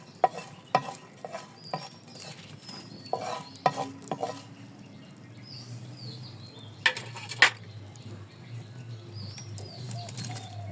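Garlic and green chillies are dry-roasted in a pan without oil, with scattered scraping and tapping of a spatula over a faint sizzle and occasional birdsong in the background.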